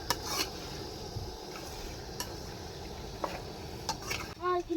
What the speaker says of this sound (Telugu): ఇలా మంచిగా కలుపుకుంటున్నా